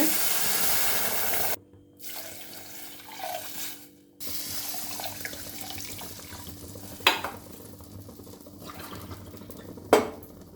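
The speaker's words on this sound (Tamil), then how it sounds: "அப்புறம் நம்ம தண்ணி ஊற்றிக்கலாம்" Water runs and splashes into a cooking pot for wheat rava kichadi, a steady close pour broken by brief pauses, with a couple of sharp metallic clinks of a tumbler against the pot.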